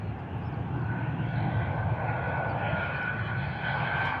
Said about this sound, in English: Ryanair coming in from Barcelona.